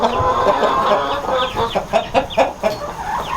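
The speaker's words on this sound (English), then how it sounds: "I can definitely hear those chickens." Chickens clucking in a farm coop in the morning, a busy, close chorus of overlapping clucks and murmurs that turns into a rhythmic run of sharper clucks toward the end.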